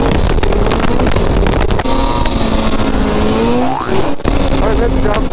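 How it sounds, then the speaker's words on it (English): Trail vehicle engine revving hard and loud as it throttles up on dirt trail jumps, pitch climbing and dropping with a brief cut near the end, close and continuous. "Throttling up on the jumps."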